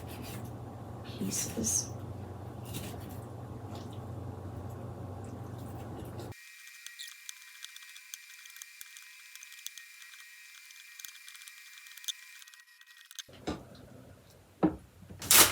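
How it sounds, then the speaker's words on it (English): A knife cuts beef and radish into smaller pieces on a board for Korean beef radish soup, making a handful of soft chops and scrapes alongside someone talking. "I'm going to cut these again so they're a little bit smaller"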